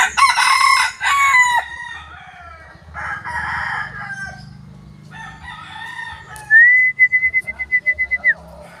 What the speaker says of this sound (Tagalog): yung kinabukasan tumitilaok na